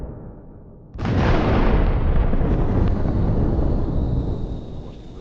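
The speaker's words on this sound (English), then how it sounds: "The stopped APCs explode." Armored personnel carriers blowing up in combat near Avdiivka: after a second of quieter rumble, one sudden heavy blast erupts and swells into a long, loud, roaring rumble that slowly fades while still sustained.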